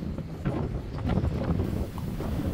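Steady wind gusting outdoors across an open rural spot, with loud low rumbling buffeting against the microphone that swells and eases throughout, no voices.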